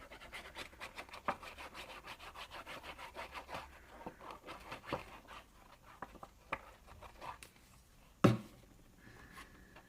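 A bone folder rubs back and forth over a glued paper pocket in a scrapbook album, making a rapid, rhythmic papery scraping that is close and quiet, then slowing into scattered strokes and a single sharp tap near the end.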